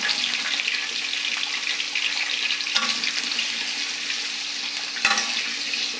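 Chopped onion and green chilli sizzle and crackle in hot oil in a wok, a steady close frying hiss with a couple of sharp stirring clatters.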